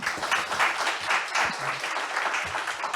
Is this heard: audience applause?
yes